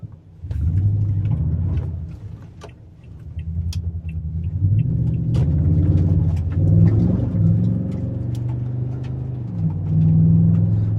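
A 2019 Toyota Tundra TRD Pro CrewMax rolls off-road toward a deep mud puddle, its engine a steady low rumble that swells as it pulls forward, with faint clicks and knocks from the rough ground and no voices.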